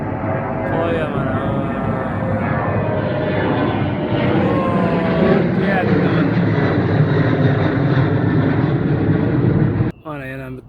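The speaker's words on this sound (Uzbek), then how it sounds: "yana bitta samolyotga mana ketdi, mana ko'tarilyapti" Airplane taking off from an airport, a loud steady jet engine roar that holds throughout and cuts off abruptly near the end, with someone talking over it.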